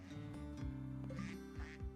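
Ducks quacking in the video game Iceberg, several calls repeating over a steady game background drone, moderately loud with no talk.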